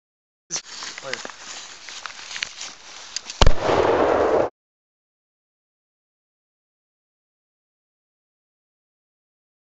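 A lever-action rifle fires a single sharp shot outdoors among sand dunes, a loud crack with a short rough tail that cuts off into silence, after a few seconds of faint voices and handling noise.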